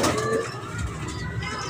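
Pigeons cooing on a rooftop loft in Sialkot, soft rolling coos close by that repeat in a gentle rhythm with no one speaking.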